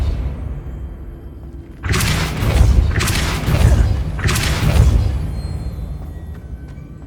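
A spell cast in the video game Hogwarts Legacy lands as three deep, booming magical blasts in quick succession, loud and rumbling, with a quieter lingering tail.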